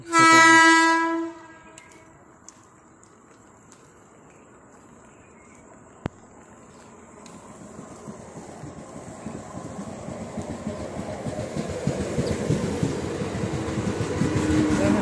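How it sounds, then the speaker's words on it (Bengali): A train arriving at a station sounds a loud, harmonic horn blast at the start, then after a quiet pause its rumble and clatter grow steadily louder as it rolls in close. "12:27 নম্বর ট্রেন ঢুকছে"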